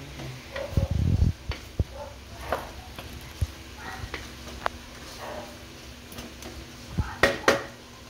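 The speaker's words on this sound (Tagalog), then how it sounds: "And then yan guys, mix lang. Halo-haloin lang natin." Creamy chicken and cucumber salad being mixed in a bowl: scattered clinks, taps and scraping stirs in an irregular rhythm, with one heavier rustling burst near the start.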